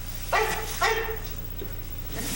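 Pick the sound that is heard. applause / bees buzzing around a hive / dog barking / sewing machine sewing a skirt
dog barking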